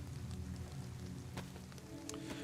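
Steady rain ambience in the DayZ video game, a continuous soft patter of drops with faint music beneath, holding at an even level with a few brief brighter taps.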